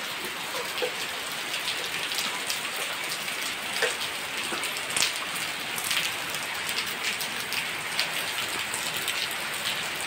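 Heavy rain pours steadily onto surfaces, a dense, constant hiss broken by scattered louder drops, with no voices.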